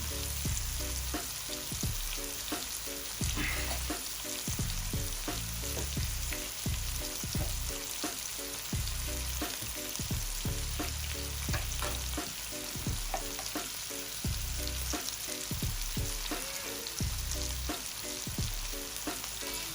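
Pepper sizzles and fries in a pot for coconut steamed butter fish, a steady close crackle with scattered stirring clatter running throughout, no talking.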